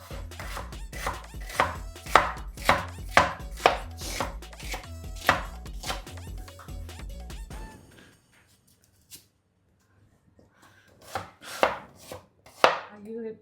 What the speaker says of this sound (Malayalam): ഇനി നമുക്ക് സവാള അരിഞ്ഞെടുക്കാം